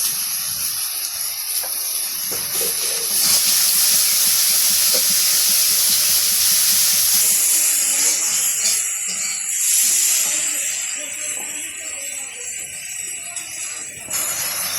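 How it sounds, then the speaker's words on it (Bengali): Prawns hit hot spice paste in a village kitchen pan, setting off a loud, continuous hissing sizzle that swells and eases slightly throughout, with no talk. "মাছ দিল, এখন মাছগুলা দিয়ে দিব, চিংড়ি মাছ।"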